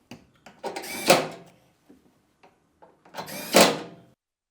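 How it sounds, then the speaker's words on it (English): A front door on a Maytag front-load washer being shut, giving two separate bursts of clunking and clicking latch noise with quiet gaps between them, close by and fairly loud. "make sure that the door closes properly"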